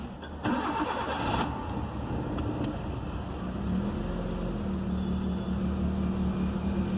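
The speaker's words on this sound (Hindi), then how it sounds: "मॉर्निंग में पहली बार स्टार्ट कर रहा हूँ गाड़ी को" A CNG car engine starting on petrol cranks briefly on a cold morning start, catches, and settles into a steady rough idle, close by, with no talking.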